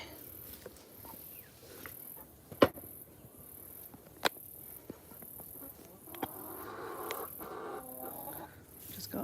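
Backyard chickens cluck faintly and sporadically around a chicken coop during house sitting, mixed with sharp handling clicks and knocks, with no speech.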